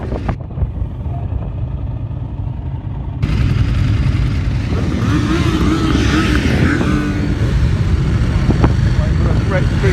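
Race motorcycles roar past at Snetterton circuit, one approaching and then a pack following, a loud engine rush building over the second half while a person talks over it.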